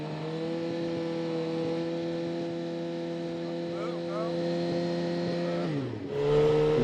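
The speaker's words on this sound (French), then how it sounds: "Les contrôleurs vérifient que la moto ne dépasse pas les 105 décibels." A motorcycle engine holds a steady, loud idle with a sustained hum at a pre-race exhaust noise check before a 24-hour endurance event, then briefly revs near the end.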